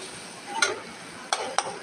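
Whole spices pop and sputter in hot oil while tomato, onion, green chili and cumin cook into a masala, heard as a few sharp crackles over a low steady sizzle with no voices.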